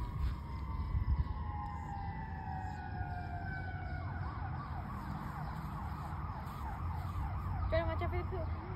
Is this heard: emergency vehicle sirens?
yes